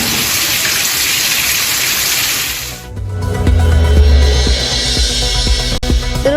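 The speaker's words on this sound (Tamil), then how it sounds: "ஸ்ரீவில்லிபுத்தூர் பகுதியில் சூறைக்காற்றுடன் கனமழை." Heavy rain with gusty wind pours down in the Srivilliputhur area of Tamil Nadu as a loud, continuous hiss. A deep low rumble joins partway through.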